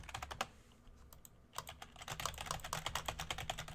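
Rapid keystrokes on a computer keyboard, close and fairly quiet, with a short burst at the start, a pause, then steady fast typing through to the end; no voices.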